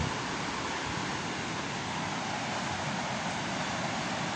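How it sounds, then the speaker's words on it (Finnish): River rapids on the Heinävesi route roar in a constant broadband rush, loud and unbroken, with no voices. "Siinä se koski pauhaa."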